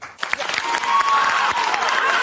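An audience at a talk bursts into loud, continuous clapping, a thick wash of many hands with some cheering voices underneath.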